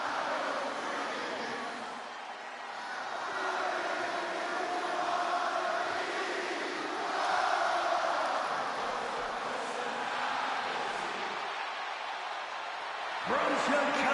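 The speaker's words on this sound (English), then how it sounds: "Just listen to this ovation for the Second City Saint." A large arena crowd roars in a sustained ovation for CM Punk in the WWE 2K26 wrestling video game, a broad, swelling wash of cheering that holds for the whole stretch with a commentator talking over it.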